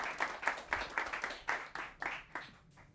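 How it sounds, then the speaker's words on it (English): Applause from a small audience at a lightning talk event welcoming a speaker: a modest, fairly quiet patter of separate hand claps with a distinct rhythmic pulse, not a dense roar. "could we have a round of applause, please"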